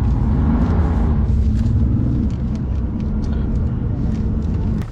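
A BMW M4 accelerating hard on a race track, heard from inside as a loud, dense engine roar with heavy low rumble that eases slightly partway through, while people speak over it.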